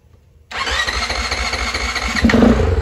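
A Honda CRF450RL motorcycle engine, primed with carb cleaner sprayed into the intake with the throttle cracked open, cranks and fires after half a second of quiet. It settles into a loud, close, steady running note that grows slightly stronger near the end.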